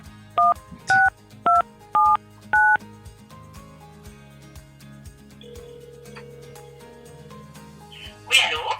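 Five clear DTMF keypad tones, evenly spaced, dial a phone number up close. A quieter phone line hum and faint background sounds follow.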